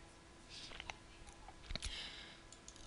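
A few sharp computer mouse clicks, quiet and close, scattered over a faint background hum with no talking.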